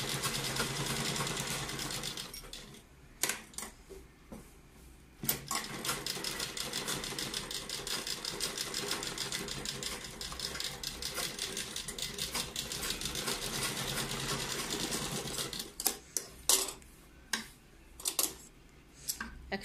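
A sewing machine stitching a cold-shoulder sleeve runs in a steady, close whirring burst of rapid needle clatter, with brief stop-start runs before and after.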